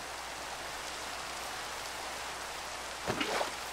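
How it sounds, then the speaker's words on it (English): Steady video game rain in Minecraft hisses evenly throughout, a broad soft wash, with a brief muffled thump near the end. "Because it's raining."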